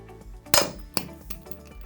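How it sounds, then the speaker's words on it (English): A hammer strikes the bottom of a Steelcase Leap V1 office chair cylinder, two sharp metallic clangs close together, the first louder, followed by faint knocks. "grab our hammer, and give a solid strike to the bottom of the cylinder"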